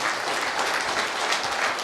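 An audience at a motivational talk for government welfare secretaries in Etcherla, Srikakulam breaks into steady, dense applause, a close and continuous wash of clapping from a crowd that fills the whole moment with no speech over it.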